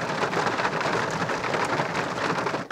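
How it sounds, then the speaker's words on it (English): Heavy rain pours steadily in the woods with a dense, hissing roar, no voices. "It's really so heavy and heavily raining"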